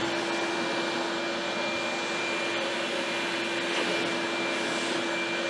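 A loud, continuous hiss of compressed air blows freshly cut threads clean on a Heritage Rough Rider revolver, a steady rushing blast filling the whole stretch.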